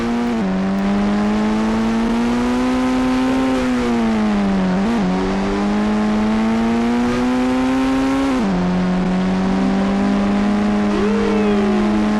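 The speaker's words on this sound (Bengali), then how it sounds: "ওকে ল্যাম্বরগিনি উরুজ আসছে, তো লেটস ড্রাইভ টেস্ট করবো।" A Lamborghini Urus engine in the mobile game Indian Bike Driving 3D drones loudly and continuously as a synthetic, steady hum whose pitch slowly rises, then dips sharply twice as the car shifts.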